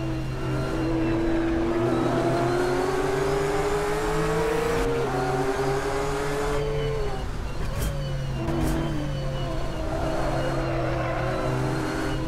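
A GT3 race car in the Assetto Corsa sim with a GT3 sound mod, racing on a wintry Spa track, roars continuously at close range, its engine pitch climbing through gears and dropping on shifts, with a brief tyre scrub.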